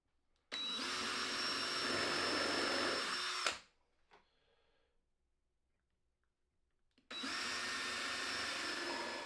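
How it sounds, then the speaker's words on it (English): Power drill driving a countersink bit into a wooden 2x4 tabletop: a loud, steady high whir for about three seconds, a pause with faint handling noise, then the drill starts again. "I'm using the same countersink drill bit as earlier and plan to do 4"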